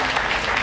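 Brief burst of dense applause from a courtroom audience, steady and loud throughout with no pauses.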